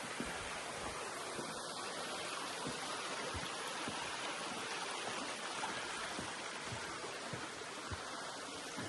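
Water trickling and flowing over mossy rocks at Hopewell Rocks on the Bay of Fundy, a soft, steady rushing babble heard close by and fairly quiet, with no voices.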